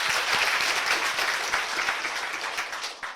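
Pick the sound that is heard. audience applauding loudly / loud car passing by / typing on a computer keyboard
audience applauding loudly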